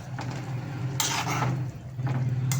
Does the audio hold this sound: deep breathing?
no